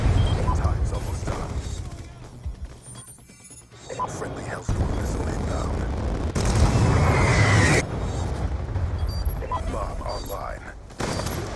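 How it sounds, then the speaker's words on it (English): Hellstorm missile strikes explode in the Black Ops 2 video game, throwing out loud, heavy booms and crashing blasts amid bursts of gunfire, while voices talk over the chaos. "Friendly Hellstorm missile inbound."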